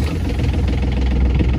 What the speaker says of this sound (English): Once the engine is then started,